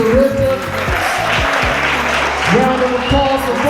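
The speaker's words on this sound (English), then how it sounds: "A round of applause for Sister Larissa." An audience applauds at a Black History Month leadership brunch, a dense wash of clapping filling the room under overlapping voices and murmured talk.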